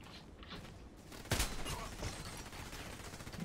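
A single sharp, booming shotgun blast from a Saiga 12k in the online shooter Contract Wars rings out mid-clip, loud and close, before fading back into a low game ambience.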